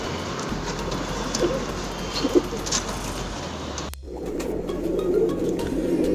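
A male Karebuuri roller pigeon coos softly among other birds in a loft, low repeated murmuring calls over a steady rustling background, with a brief sharp click midway.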